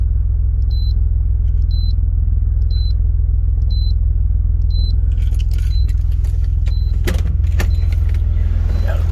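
A 1991 Nissan 300ZX Twin Turbo sits idling on its turbo timer with keys out, a steady low engine rumble under a repeating electronic chime, followed by clicks and door or key jingles near the end.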